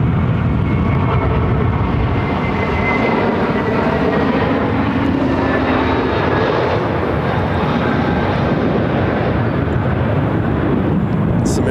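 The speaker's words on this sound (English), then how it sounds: "This is American Airlines Flight 1685 arriving from Dallas on an A321-200." An American Airlines Airbus A321-200 arrives at Phoenix airport, its jet engines producing a loud, steady roar with a high whine throughout.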